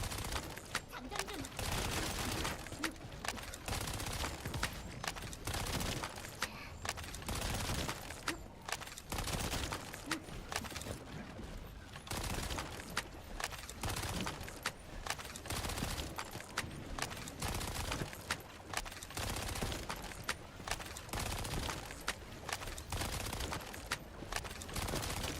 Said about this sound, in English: This gun sounds a little weird when it reloads.